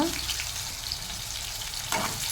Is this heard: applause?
no